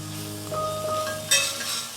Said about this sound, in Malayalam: നൂഡിൽസ് ചേർത്ത് കൊടുത്ത് 2 സ്പാറ്റിൽ ഉപയോഗിച്ച് ഇതുപോലെ മിക്സ് ചെയ്തിട്ടെടുക്കാം.